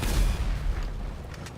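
Homing launcher rockets strike a Volatol stealth bomber in GTA 5, a dense booming rumble of explosions that holds loud for a moment and then fades slightly, with no voices.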